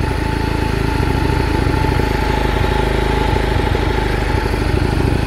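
A Grom clone motorcycle engine idles steadily up close, a loud, continuous low rumble with a fast, even pulsing beat throughout and no voices.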